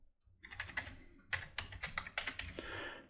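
Fingers tap quickly on a computer keyboard in a quiet room, a burst of about a dozen close, crisp keystrokes with short gaps between them.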